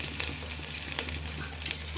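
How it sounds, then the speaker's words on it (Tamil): Mustard seeds splutter and crackle in hot oil while tempering thuthuvalai rasam, a dense continuous sizzle with scattered pops, close and steady throughout, no voices. "கடுகு பொரிஞ்சிருச்சு"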